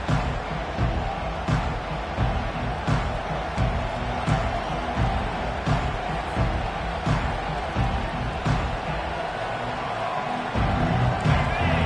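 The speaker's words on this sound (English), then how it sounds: "They challenge this crowd to bring the energy, and I'd say they're doing that." A packed football stadium crowd at a Georgia game roars in a continuous dense wash of cheering and noise, loud and sustained for the whole stretch with occasional sharper bursts.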